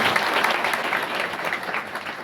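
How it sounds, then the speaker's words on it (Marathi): A crowd at a devotional gathering claps steadily for a mridangam accompanist, a dense and fairly loud burst of applause with a faint voice behind it. "त्यांना टाळ्या वाजवून स्वागत आहे"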